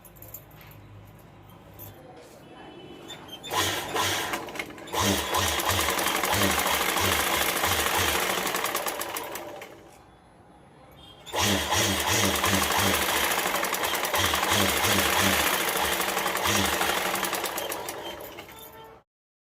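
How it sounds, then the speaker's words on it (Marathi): Sewing machine stitching the lining fabric of a handmade bag, two long loud runs of steady rapid needle clatter separated by a brief pause, heard close up with no talk over it. "ह्याला आपण आता अस्तरला ह्या टिपा मारून घ्यायचे चारी बाजूला"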